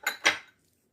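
A spoon knocks twice against a bowl as puffed rice is tossed with chanachur and mango oil: two short, close clinks, then silence.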